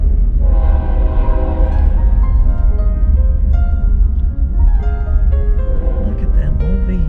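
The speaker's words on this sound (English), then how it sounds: "We're gonna have to wait for the train." A train rumbles past with its horn blaring in sustained tones, and people talk nearby over the loud, close rolling noise.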